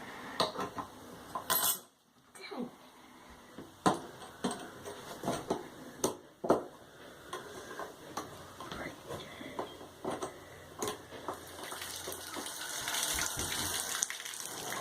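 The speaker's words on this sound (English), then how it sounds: "now we're in the kitchen and testing some water, and there's no leak" Kitchen tap runs water after a bathtub drain repair, a steady close gush with clinks and knocks of handling over it, swelling louder toward the end.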